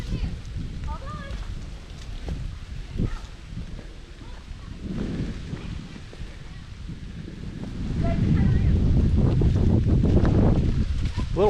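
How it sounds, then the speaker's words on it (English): Strong wind roars against the microphone in low, blustery gusts that grow louder toward the end, while people talk intermittently, outdoors in southeastern Kentucky. "A little windy up here."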